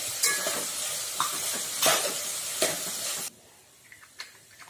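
Dried red chillies and sesame seeds are dry-roasted over a low flame and stirred in a pan, giving a steady dry rustling sizzle with a few louder scrapes, close up, before it drops to near quiet.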